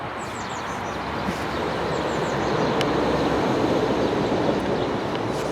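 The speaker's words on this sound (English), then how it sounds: "I am right by the train track, so there's a train going to go past any second" A train passes on a track right beside a garden allotment, a broad continuous rushing rumble that swells gradually and holds, fairly near, with faint birdsong above it.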